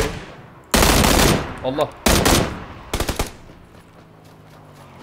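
Loud bursts of automatic gunfire from PLAYERUNKNOWN'S BATTLEGROUNDS, three separate volleys of rapid shots close up, with a brief spoken exclamation between them and quieter game ambience after.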